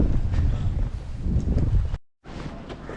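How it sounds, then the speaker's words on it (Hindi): Strong wind at Nahargarh Fort in Jaipur, a loud rumbling gust buffeting the microphone, briefly dropping out before resuming. "और तेज़ हवा चल रही है इस टाइम।"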